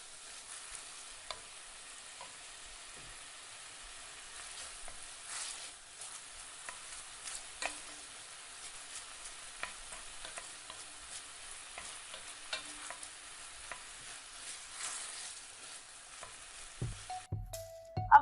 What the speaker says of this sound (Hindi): दाल का पानी भी कढ़ाई में डाल दें।